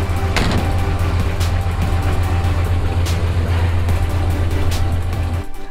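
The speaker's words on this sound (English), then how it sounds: "we'll let it idle for a bit and warm up before we take it on a little drive" A car engine idles at a standstill to warm up before a drive, a steady loud low hum and rumble holding even throughout, then easing at the very end.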